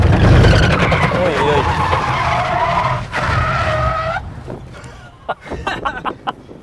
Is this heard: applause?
no